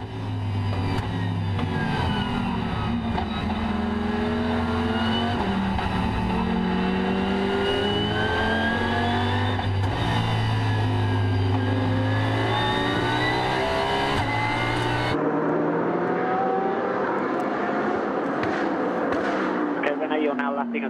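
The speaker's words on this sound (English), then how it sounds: "René Rast takes the lead during the fourth lap." Audi race cars of the WRT team roar around the 24 Hours of Spa circuit, engines revving loudly and continuously with shifting pitch as they pass, while a commentator talks over the racing.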